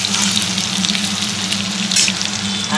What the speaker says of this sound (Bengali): সোয়াবিনটা ভালো করে ভেজে নিচ্ছি